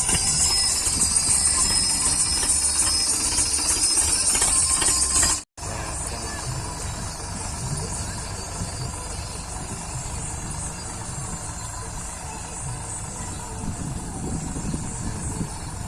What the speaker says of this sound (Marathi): आलाय ट्रॅक्टर डायरेक्ट आपल्या वावरात